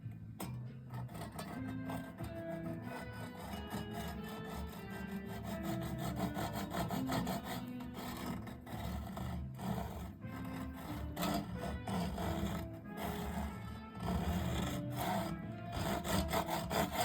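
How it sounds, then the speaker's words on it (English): A Japanese saw cuts a slot into a bass guitar neck during a fretless conversion, giving steady, close rhythmic rasping strokes that continue alone without pause. "couple of strokes of a saw into this slot"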